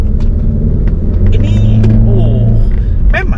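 A Wuling Cortez turbo engine pulls hard while overtaking, its low rumble and drone rising under a man's ongoing speech, with a few higher whines and road noise near the end.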